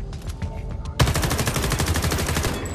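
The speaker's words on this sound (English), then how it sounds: "Let me go ahead and shoot the shit out of this stuff" Automatic gunfire in the video game Homefront The Revolution: a loud, sustained burst of rapid, evenly spaced shots kicks in abruptly after a second of quieter background and keeps hammering without pause.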